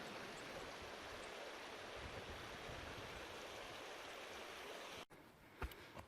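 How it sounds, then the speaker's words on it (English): Cascading waterfalls on a mountain on Vancouver Island make a constant, far-off rushing roar that holds steady for about five seconds and then cuts off, leaving quieter open air with a few faint knocks. "You can see the cascading waterfalls coming down the mountain there in the distance."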